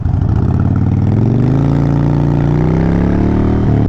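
Harley-Davidson Sportster motorcycle with a loose, vibrating exhaust, a loud close engine rumble that revs up and holds a rising, steady drone throughout, with no talk.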